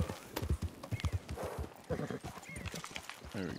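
Horse hooves clip-clop in a quick rhythm with a whinny, game audio from Red Dead Redemption 2, under background noise.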